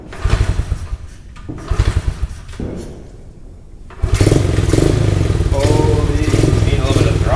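A 21-year-old Honda XR50 dirt bike engine being kicked over, sputtering in a few short bursts before catching and running steadily at close range, with someone talking over it.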